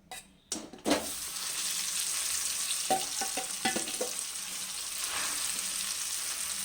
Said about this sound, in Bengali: ওই তেলের মধ্যে আমি যে আলুটা মেখে রাখলাম সেই আলুটাকে এখন আমি দিয়ে দিচ্ছি